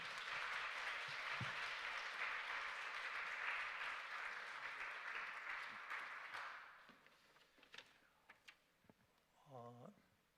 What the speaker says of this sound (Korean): 우리 따뜻한 박수를 보냈으면 좋겠습니다